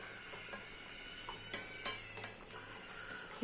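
Fish curry stirred in a pot, faint scraping with a few light clinks of a spoon against metal over a quiet bubbling background.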